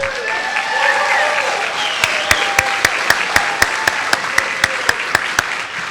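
A theater audience applauds a student performer at a school arts showcase: a steady wash of crowd clapping, then a series of sharp, evenly spaced loud claps near the listener, with no voices.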